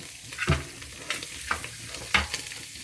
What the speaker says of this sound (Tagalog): ilagay na natin ang in-slice kong bawang